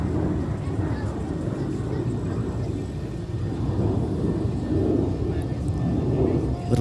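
An airliner at Minneapolis–Saint Paul airport gives a continuous low rumble of engines that swells slightly toward the end, with faint voices underneath.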